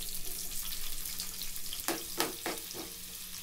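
Onions deep frying in hot oil for chicken haleem, a steady close sizzle and crackle throughout, with a few sharper bursts of bubbling near the end and no talk.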